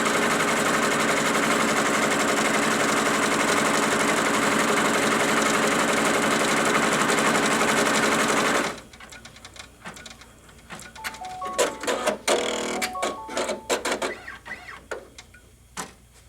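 Embroidery machine laying out a quilt block placement line in the hoop: a steady, loud mechanical whir for about nine seconds, then it stops and sparse clicks and rustles of handling follow.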